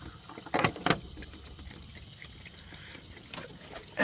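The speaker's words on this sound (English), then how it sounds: "We are ready to refill this with the hose" Water from a garden hose runs into the refilled cooling system of a Dodge Viper, a quiet trickling pour broken by a few brief splashy bursts near the start and end.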